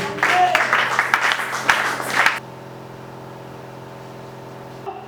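A church congregation claps and cheers together for a couple of seconds, lively and fairly loud, before the applause stops abruptly and leaves only a quiet hum.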